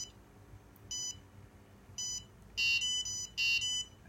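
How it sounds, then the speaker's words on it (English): A wireless fire alarm network's nodes, triggered by a gas sensor, give short electronic beeps, first single and spaced, then louder paired bursts, in a quiet room. "Here you can see that every node is start beeping, and because there is a fire sensed by this gas sensor."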